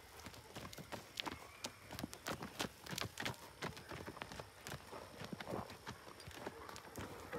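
A horse being ridden and worked slowly by its rider walks with steady, close clip-clopping hooves throughout, the footfalls fairly loud and regular with some rustle and a voice occasionally in the background.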